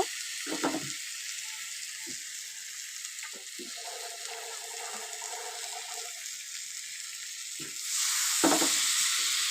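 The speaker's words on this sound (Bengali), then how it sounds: "আলুটা ভাজা হয়ে গেছে দেখেই মশলাটা দিয়ে দিলাম" Fried potatoes sizzle in a pan with ground spice paste, giving a constant crackling hiss with occasional stirring knocks and a faint tonal hum, then flaring louder near the end.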